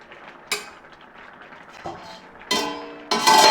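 Metal cookware clatters in a kitchen while aam panna simmers: a sharp clink, a softer knock, then two louder metallic clanks as a lid is set back on the cooking pot, with no talk.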